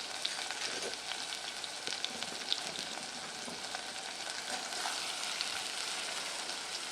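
Dried red chillies sizzling in hot coconut oil after mustard seeds have popped, a continuous close, even crackling fry with small sharp pops scattered through it.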